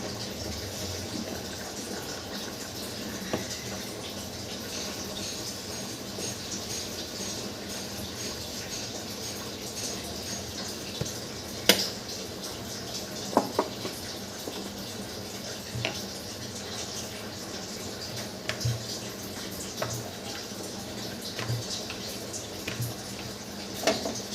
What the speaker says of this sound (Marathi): टाकीत पाणी लावलंय